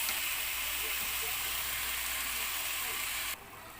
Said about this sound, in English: just saute for another like 3 minutes.